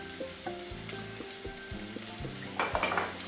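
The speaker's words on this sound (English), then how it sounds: "I'm going to stir it a bit more" Food fries in a pan for a Caribbean breakfast while a utensil stirs it, giving a steady sizzle broken by a run of scraping and clinking strokes near the end.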